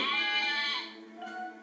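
A sheep bleats in a single drawn-out, quavering call that fades toward the end, heard alone and fairly close.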